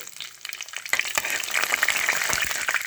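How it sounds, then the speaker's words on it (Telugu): Cumin seeds and dried red chilies crackle and sizzle in hot oil as a tempering for a pickle, with dense popping and spitting that builds after the first second and stays close and steady. "జీలకర్ర, ఎండుమిరపకాయలు, ఇది పోపండి."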